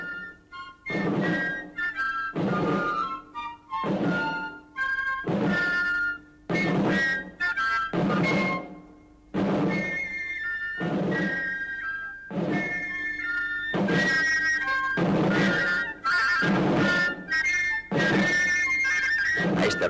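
Drum cadence of 18th-century Spanish grenadiers marching, loud regular beats in a steady march rhythm with a sustained piping or whistling melody running over them throughout.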